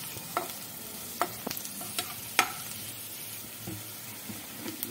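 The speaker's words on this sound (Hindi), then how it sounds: "अब इसको गुलाबी होने तक फ्राई करेंगे हम थोड़ा।" Potatoes and eggplant frying in a pan, a soft steady sizzle broken by occasional spatula taps and scrapes at a moderate distance.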